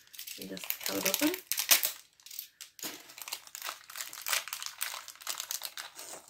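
Plastic blind bag packaging being cut open and crinkled, with sharp bursts of crackling and rustling close by, loud then in repeated softer crinkles.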